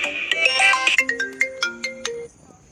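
Mobile phone ringtone for an incoming company call, a bright melodic run of quick electronic notes played clearly and alone, ending abruptly after a few seconds.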